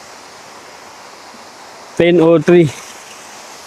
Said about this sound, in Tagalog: Ayun yung falls na kung tawagin ay Ambon Falls.